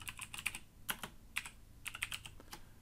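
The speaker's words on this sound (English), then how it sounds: "We can type in the name that we want." Fingers tap out a name on a computer keyboard in short, quiet clusters of crisp clicks with brief pauses between them.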